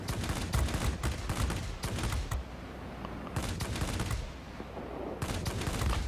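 Aircraft guns firing in World of Warplanes on a Ki-162-III tier X fighter, long rapid automatic bursts with brief pauses between them, steady and loud against engine noise.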